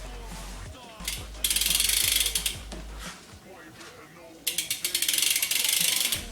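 A BMX rear hub, a Salt hub with a 9 tooth driver, ratchets in two loud, rapid bursts of sharp mechanical clicking, close by, separated by quieter handling noise.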